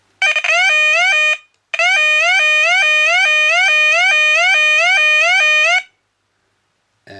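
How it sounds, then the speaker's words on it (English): A Chloride Gent warbler alarm on its normal warble setting sounds loud and close, a rapid repeating electronic warble that cuts out briefly, resumes for several seconds, then stops. "the first setting I've got it on is the normal sort of warble sound"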